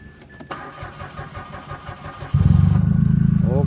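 A Mitsubishi Mirage engine cranks with rhythmic starter churning for a couple of seconds, then catches and settles into a loud, steady idle close to the mic.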